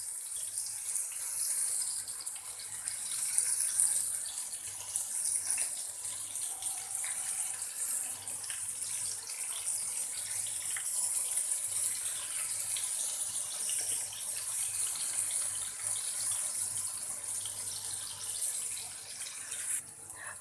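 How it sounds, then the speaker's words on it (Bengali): Pointed gourds (potol) fry in hot oil over medium heat with a continuous bright sizzle and hiss that stays even throughout, with no talking. "তো পটলগুলো আমি দিয়ে দিচ্ছি এক এক করে।"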